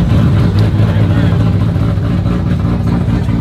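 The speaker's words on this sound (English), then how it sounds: "We're about to get this two-step on." A Toyota Supra on two-step launch control revs hard at a car meet, a loud, steady, deep engine roar held throughout with crowd voices mixed in.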